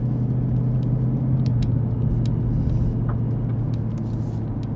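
A car drives through a residential neighborhood near Sequoyah Hills, heard from inside as a steady, loud low road rumble and engine drone with faint ticks over the top.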